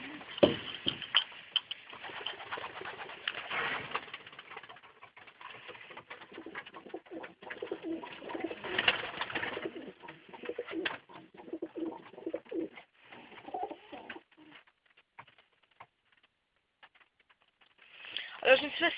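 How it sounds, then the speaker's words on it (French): Pigeons coo inside a pigeon loft, with soft rolling calls repeating from several birds, close and moderately loud, joined by wing flutters and shuffling, while a person talks over them at times. "Voilà les pigeons."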